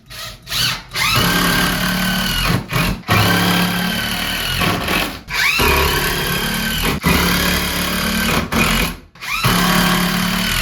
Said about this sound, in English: I'll put more screws to secure these properly